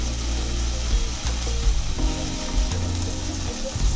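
Garlic and ginger paste frying in a pan hisses and sizzles steadily up close as water is poured in, with bubbling and a few soft clinks, and no voices.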